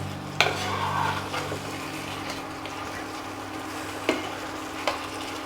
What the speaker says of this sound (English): Let me give a mix.